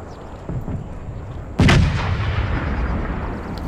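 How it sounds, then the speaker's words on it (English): Artillery fires in a Total War: Empire battle as a single loud, sharp cannon blast, then a rumbling decay, over steady low battlefield ambience with no talk. "my artillery is now firing"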